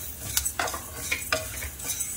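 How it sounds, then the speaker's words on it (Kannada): Spices dry roasting in a pan for a prawn dish, giving a faint dry sizzle and scraping as a spoon stirs them, with a few light clinks of utensil on metal, close by and without talk. "ಇದಿಷ್ಟನ್ನು ಸ್ವಲ್ಪ ಚೆನ್ನಾಗಿ ಡ್ರೈ ರೋಸ್ಟ್ ಮಾಡ್ಕೊಳ್ಳೋಣ."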